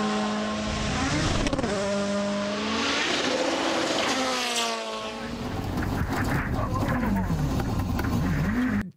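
WRC rally cars racing at Rally Finland, engines revving and roaring loud and continuous with rising and falling pitch sweeps as cars accelerate and pass close by, tyres squealing at moments.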